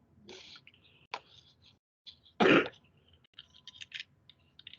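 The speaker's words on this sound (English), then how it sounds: "I try not to cough into this mic because it gets so amplified" A single sharp cough rings out close to the microphone amid quiet clicks and small rustling noises.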